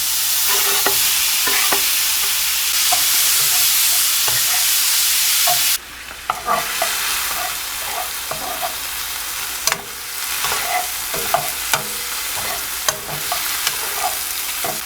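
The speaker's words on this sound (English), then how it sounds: "little cubes like this, and it's ready for the frying pan" Small cubes of carne asada sizzle loudly in a frying pan, a continuous crackling hiss broken by repeated scrapes and knocks of stirring, with a brief dip in the sizzle partway through.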